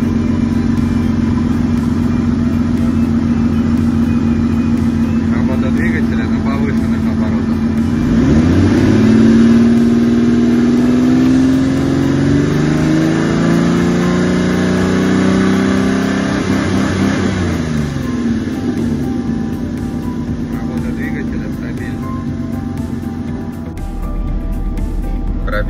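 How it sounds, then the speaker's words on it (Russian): Chrysler engine from a 2001-2007 Sebring or Dodge Stratus idling steadily up close, with a brief rise in revs midway before it settles back to an even idle. "Работа двигателя на холостых оборотах."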